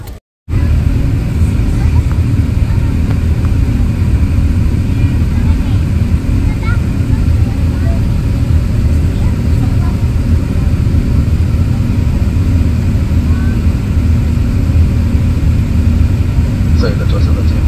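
Steady, loud broadband engine roar fills an airplane cabin on a flight to Bangkok, continuous throughout with faint cabin sounds on top.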